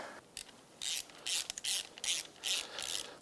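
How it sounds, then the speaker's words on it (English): A ratchet tightens the throttle body boots on a Yamaha YXZ1000R engine, giving several short, close bursts of rapid clicking strokes separated by brief pauses in a quiet workshop. "Now let's get our throttle body boots tightened down,"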